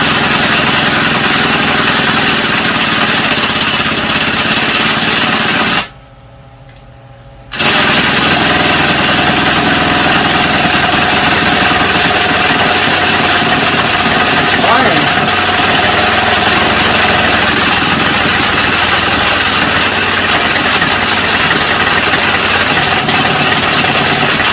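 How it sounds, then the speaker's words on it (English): A Troy-Bilt TB227XP tiller engine runs loud and rough at close range, a steady mechanical roar that cuts out completely for about a second before carrying on unchanged to the end. "It's backfiring out the carburetor and everywhere else."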